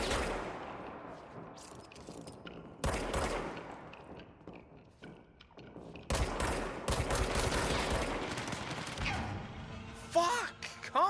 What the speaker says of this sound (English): they really need to fuck off with those rockets